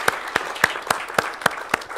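Sparse, scattered claps from a small audience at an Estonian diversity agreement ceremony, a handful of sharp hand-claps spaced irregularly at a moderate distance with no talking.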